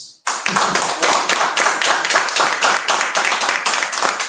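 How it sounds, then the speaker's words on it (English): An audience at a Toastmasters debate claps for every participant: steady, dense applause starting abruptly after a brief moment and continuing evenly, fairly close and loud. "Let us first applause for every participant"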